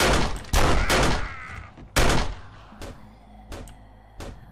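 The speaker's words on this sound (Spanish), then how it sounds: "Le disparo de cerca." Close-range gunfire at a sprinting feral zombie in 7 Days to Die: a few loud, sharp shots in quick succession, then a heavy blast and several fainter, scattered pops trailing off.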